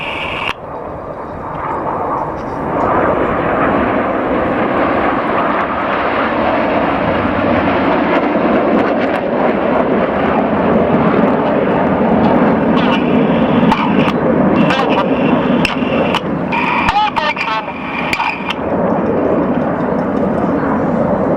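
Red Arrows jets fly in formation and bank left while changing smoke colour, producing a loud, steady roaring engine drone that stays constant throughout, with faint crackles over it.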